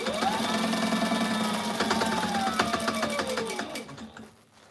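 Sewing machine stitching through thick waist-strap material on tactical gear, a fast steady mechanical whir with a rising then falling motor pitch, close and loud, slowing and stopping near the end.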